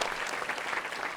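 An audience at a multiple sclerosis symposium in Alabama applauds, a dense, even wash of clapping heard faintly from a distance with no voices over it.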